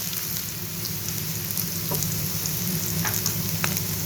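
A samosa filling mixture fries lightly in a pan with a steady, close, even sizzle like rain, with a few faint clicks from stirring and no voices.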